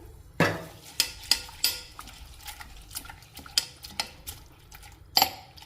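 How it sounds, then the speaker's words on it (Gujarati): Flattened rice (poha) being washed with water in a mixing bowl: a run of sharp, close clinks and splashy knocks against the bowl at an uneven rhythm, with a soft watery wash underneath and no talking. "પૌવાની અંદર પાણી નાખી પૌવાને સરસ એવા ધોઈ લેશું"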